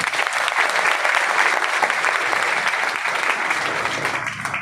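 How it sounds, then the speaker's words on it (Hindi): An audience gives a loud, steady round of clapping for the Mahaguru at a product results gathering. It stays dense throughout and eases off slightly at the very end. "सबसे पहले अपने महागुरु जी के लिए जोरदार तालियां दोस्तों"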